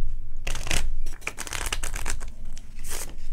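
A deck of playing cards is shuffled by hand at close range, with repeated riffling bursts and flicking clatter over a few seconds, no talk.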